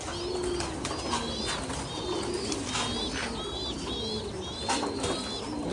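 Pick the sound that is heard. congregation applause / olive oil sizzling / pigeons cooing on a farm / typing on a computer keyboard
pigeons cooing on a farm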